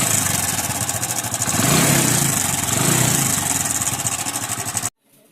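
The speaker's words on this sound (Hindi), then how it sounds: "जैसा कि आपको इंजन का साउंड सुनकर पता चल गया होगा कि इस बाइक में टाइमिंग चेन का साउंड है" A Hero iSmart 110 motorcycle engine with a timing chain noise runs at a steady idle close by, with a continuous mechanical clatter and a faint rhythmic ticking. It swells slightly midway, then cuts off abruptly near the end.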